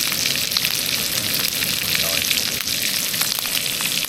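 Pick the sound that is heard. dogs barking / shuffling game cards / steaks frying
steaks frying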